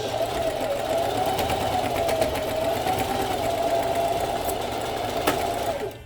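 A sewing machine stitches steadily at a 4 stitch length with back stitching, its fast, even mechanical whir running close and continuous without pause, with no voices over it.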